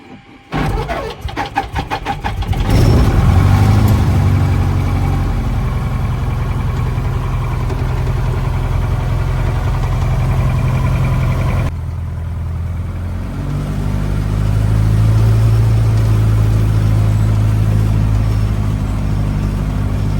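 A small airplane's piston engine on a cold Alaskan winter day, preheated overnight, cranks with rapid stuttering pulses, catches, then settles into a loud, steady idle with a brief dip and surge partway through.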